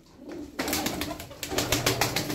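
A blue pigeon, a striking, noble-looking bird, gives a series of close, rhythmic calls in quick bursts after a brief quiet start, with a steady low background beneath.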